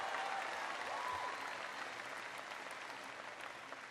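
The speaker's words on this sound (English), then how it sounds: "Give mom and dad a big round of applause." Audience applause for a student's proud mom and dad at a college affordability speech, a steady broad wash of clapping from a large crowd that holds for the whole stretch and fades slightly toward the end.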